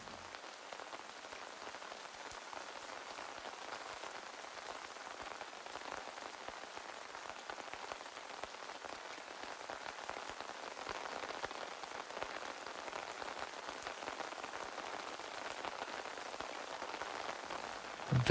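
Steady rain falls throughout, a dense even patter of drops on a surface, close and continuous at a soft level with no voices.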